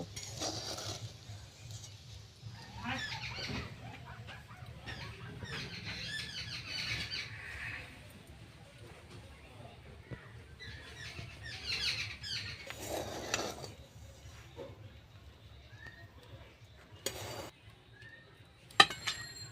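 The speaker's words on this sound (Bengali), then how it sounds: "এবার আমি ভালো করে মিশিয়ে নেব" Vegetable fried rice being mixed in a pan with fried vegetables on top: a spoon or spatula scrapes and clinks against the metal in an irregular stirring rhythm for several seconds. A few sharper clanks come near the end, and no one talks.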